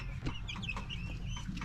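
Several chickens cluck in quick, overlapping bursts close by, over a steady low rumble, with no voices.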